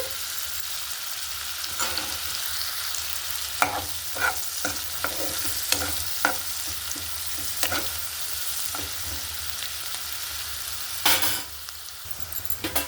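Green chillies frying in plenty of oil for a dry fish curry, a constant crackling sizzle broken by repeated clinks and scrapes of stirring, with no talking.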